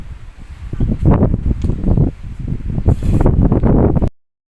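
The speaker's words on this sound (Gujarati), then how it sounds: "અત્યારે તો જોરદાર બહાર પવન ફૂંકાય છે" Strong wind buffets the microphone outdoors at a rural village home after heavy rain, roaring in loud uneven gusts with rustling, then cutting off abruptly at the end.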